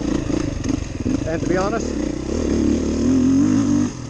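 A Beta 500RR off-road motorcycle, the largest bike at a test day, runs loud and close with a steady throbbing engine drone and a brief rise in revs, while someone talks over it.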